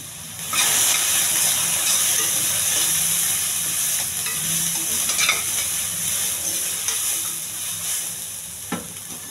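Boiled chickpeas with green chili and chili powder sizzle loudly in a hot oil tempering, a steady frying hiss broken by stirring scrapes and a sharp clink near the end.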